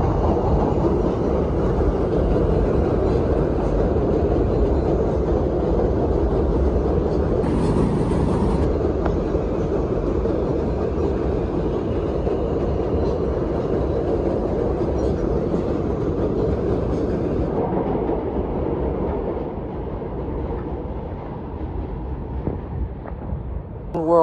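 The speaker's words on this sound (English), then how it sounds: "Goes the F train. Going under the tunnel soon." A New York subway F train rumbles past nearby in Brooklyn, heading toward a tunnel, with a steady rushing roar and rail clatter, fading slightly toward the end.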